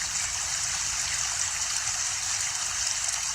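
Water streams steadily over a pacarana as the animal cleans itself. A constant, fairly loud rushing flow runs throughout with no voices.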